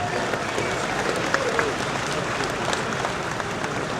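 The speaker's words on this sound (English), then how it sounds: "Let's give this Charger a round of applause." A big crowd gives steady, roaring applause for a 1968 Dodge Charger presented at a Barrett-Jackson collector car auction in Scottsdale, Arizona, the clapping dense and constant with faint voices beneath.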